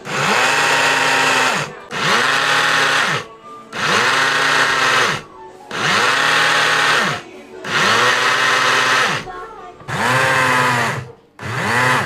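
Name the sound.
blender grinding malunggay leaves into powder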